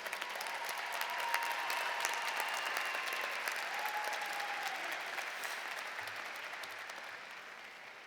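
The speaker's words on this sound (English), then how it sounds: "Please give a round of applause to our master's degree recipients" Sustained, full applause from a large audience at a university commencement ceremony for master's degree recipients, steady and loud before slowly tapering, with a faint voice briefly audible underneath.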